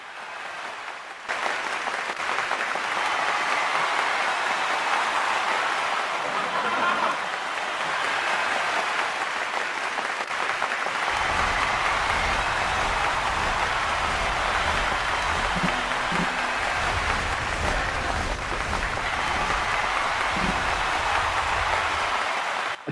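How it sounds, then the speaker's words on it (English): Applause from an audience during a live online anniversary event vote, a long, even wash of clapping with a low rumble joining partway through. "Give it a round of applause."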